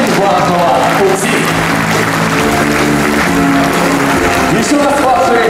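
A loud, continuous ovation fills the hall at a university alumni forum, dense applause sustained throughout with voices and other sound mixed in beneath it.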